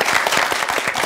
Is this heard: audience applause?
yes